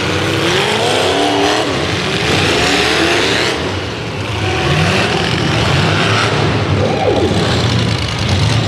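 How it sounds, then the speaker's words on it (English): Demolition derby cars at the L.A. County Fair rev their engines loudly and continuously in an open arena, a dense roar of several motors with rising and falling pitch and no talk over it. "We're getting ready for Demolition Derby."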